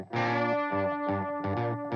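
Dry distorted electric guitar without bus processing or parallel compression plays a short riff of sustained, chugging power chords, loud and upfront, alone without talk.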